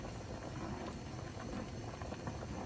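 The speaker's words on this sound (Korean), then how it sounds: "옹심이가 안에까지 충분히 익을 수 있도록 끓여줍니다" Perilla potato ongsimi soup, thickened with hulled perilla powder and starchy potato dumplings, bubbles in a pot at a steady low simmer, a continuous soft close-up burble and hiss with no talk.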